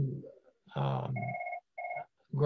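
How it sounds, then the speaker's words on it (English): Telephone rings in two short electronic tonal bursts during an indoor conversation, close and clear, with a voice speaking just before and after the rings. "Just ignore the phone."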